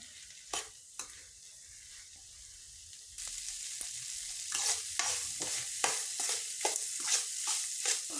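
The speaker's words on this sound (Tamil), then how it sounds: "தேங்காய் துருவலையும் இப்போ சேர்த்து நல்லா வதக்கிடலாம்" Bitter gourd and grated coconut sautéing in a pan for pavakkai poriyal: a soft, steady sizzle with repeated sharp spatula scrapes and taps, close and moderately quiet, more frequent in the second half, with no talking.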